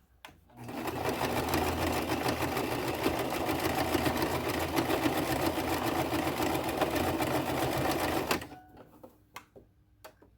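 Sewing machine stitching hair track onto a wig, a steady rapid mechanical whir running for about eight seconds before stopping abruptly, followed by a few faint clicks.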